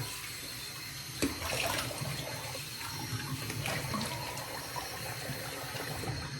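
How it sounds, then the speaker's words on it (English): Cold water runs from a tap in a steady, hissing gush throughout, fairly quiet and continuous with slight splashing changes. "Let's run some cold water."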